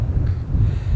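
A strong headwind buffets the microphone on a bike ride through the Lincolnshire Wolds, a loud, steady low rumble that covers everything else.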